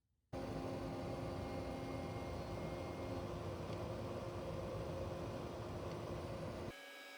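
A longer CNC end mill carves a walnut shot glass, cutting a cylinder into a pre-drilled hole with a steady, loud tonal whine and hum that runs unbroken for several seconds before stopping abruptly.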